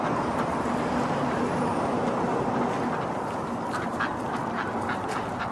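Ducks quack on a canal, mixed into a dense, steady background with a traffic-like roar. The quacks are scattered and fairly faint, and there is no clear talk.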